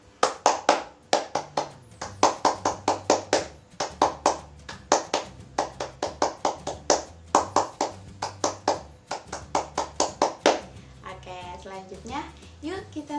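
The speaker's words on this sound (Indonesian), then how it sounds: "Tepuk pramuka." Children join in Indonesian scout rhythmic clapping (tepuk pramuka), a fast patterned run of many hand claps in repeated bursts, close and lively, with voices chanting along between groups of claps and a voice speaking at the end.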